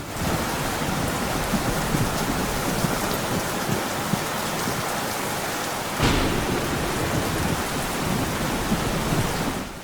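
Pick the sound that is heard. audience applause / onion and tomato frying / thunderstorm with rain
thunderstorm with rain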